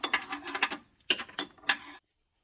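A ratchet wrench clicks in quick, close bursts while tightening the bolts of a manual transmission mount on a Honda Prelude/Accord: a run of rapid ratchet strokes, then three short separate bursts.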